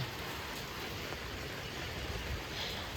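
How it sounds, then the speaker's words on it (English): Steady rain falls on a winter day at an outdoor fox enclosure, making an even, continuous hiss that stays uniform and fairly close throughout, with no voices. "It's raining."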